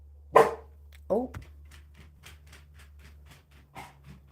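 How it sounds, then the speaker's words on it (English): Neighbor's dogs bark outdoors, a couple of loud close barks followed by a string of fainter, quicker yips and barks, over a steady low hum. "Neighbor's dogs are awake."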